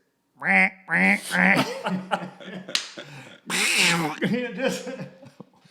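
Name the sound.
duck call imitating ducks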